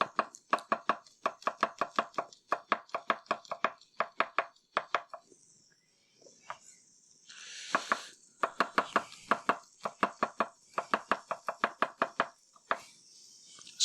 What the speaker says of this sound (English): You chop garlic.